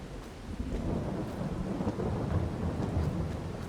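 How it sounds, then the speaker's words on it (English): Rain pours steadily in the video game Farming Simulator 22 while thunder rumbles low and heavy throughout, loud and continuous with no talking. "It's raining."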